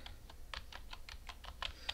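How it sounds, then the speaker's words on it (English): Quiet, close typing on a computer keyboard, a quick series of light key clicks in an irregular rhythm with no talking. "I'm just typing ipconfig."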